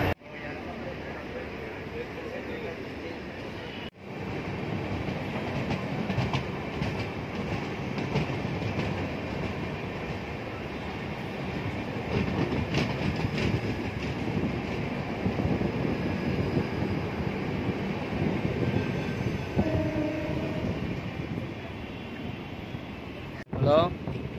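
A Chennai Central to Arakkonam MEMU fast train runs with a continuous, moderately loud rumble of wheels and rattling carriages that holds steady throughout, with faint clicks and brief voices.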